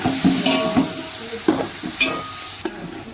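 Tomatoes being sautéed in a pan, with a stirring spoon scraping and clinking at intervals over a steady soft sizzle, close and fairly loud.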